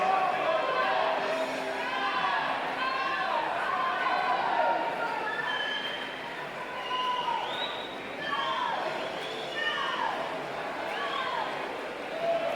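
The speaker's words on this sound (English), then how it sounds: "The whole Jazzy team here cheering on from the sidelines." The Jazzy Swim Club team cheers and whoops from the sidelines at a national age group swimming championship finals, a continuous mix of excited shouts and crowd chatter close by.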